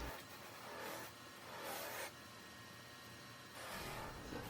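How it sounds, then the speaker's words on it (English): Maple wood turned into a leaf is buffed against a spinning wheel charged with carnauba wax. A quiet, steady whir is broken by soft rubbing pulses that swell and fade as the piece is pressed to the wheel. "The third and final wheel just uses carnauba wax, and you just need a little bit of that on the wheel."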